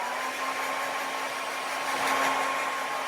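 A hair dryer blowing steadily while a man's hair is styled, a continuous airy whoosh with a faint motor whine, close and constant with no voices.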